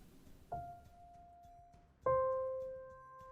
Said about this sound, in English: when I hit a piano key now, it sounds like this